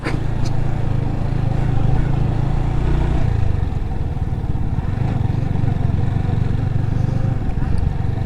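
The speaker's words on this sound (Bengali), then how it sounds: "বাইকার ভাইদের দেখা যাচ্ছে।" Motorcycle engines drone and rumble continuously on a hill at Satchari tea garden, Bangladesh, pitch shifting slightly as they pass nearby, loud and steady with no voices.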